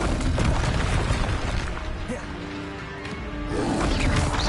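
Confringo blasting spells explode in Hogwarts Legacy, producing dull booming bursts mixed with spell effects and game combat noise, fairly loud throughout with no talking.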